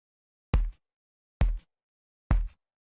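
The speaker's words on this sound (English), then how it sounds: "I'm going to import some footsteps that I've got." Three distinct footsteps land at an even pace, each a crisp, close thud with a short scuff, separated by silence.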